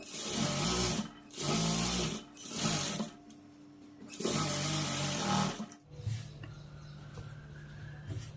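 A domestic sewing machine runs top-stitching on a blouse in four bursts of steady whirring, separated by short pauses, followed by a quieter hum near the end; close and fairly loud with no talking.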